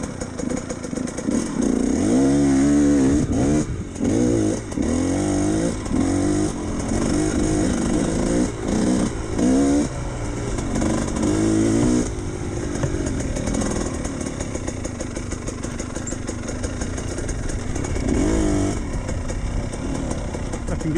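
A GPX TSE 300R motorcycle engine revs hard while riding, climbing and dropping in pitch through repeated gear changes, loud and close over steady wind rush for the whole stretch.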